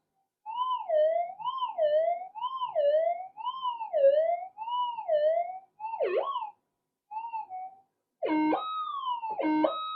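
A modified Minelab GPX-7000 metal detector sweeps over metal, giving loud, repeated warbling tones in a steady rhythm with brief gaps, then closing on sharper stepped rising and falling tones. No one speaks.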